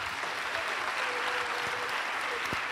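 A church congregation claps in steady applause for the Lord, a dense, continuous wash of hands filling the room for the whole stretch, with no voices standing out.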